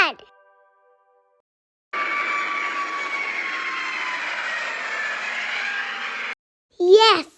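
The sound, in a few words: airplane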